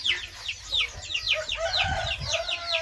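Repeated clucking calls of a rooster close by, a steady run of short bursts with other bird chatter mixed in.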